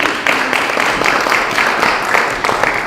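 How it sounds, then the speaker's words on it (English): An audience at a music festival panel gives a round of applause, dense, loud clapping sustained evenly from start to finish. "Please give him a round of applause."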